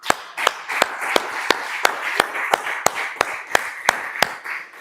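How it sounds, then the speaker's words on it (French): Rhythmic congregational clapping for Jesus during a church service, a steady, even beat of about three claps per second carried on without a break, close and loud. "Applaudissons pour Jésus"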